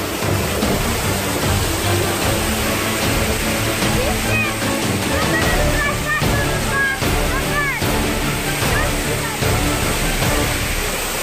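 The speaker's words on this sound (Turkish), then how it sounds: "Ve en büyük şelale." The large Oylat waterfall in İnegöl roars close by as a loud, continuous wash of falling water that fills the whole scene.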